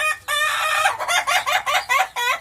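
Chickens in a coop cluck loudly and close by in quick, overlapping bursts, with a drawn-out crow-like call among them.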